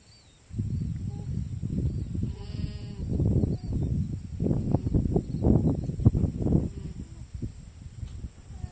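A newborn alpaca cria lets out a run of soft, bleating little calls, close by and repeated in quick, uneven bursts.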